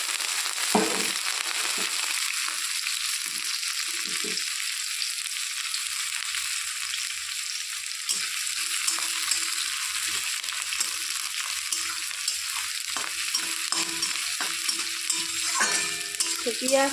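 Chopped onions and green chillies sizzle steadily in a pan of oil, with intermittent scraping and clatter as they are stirred, fairly close and without talk.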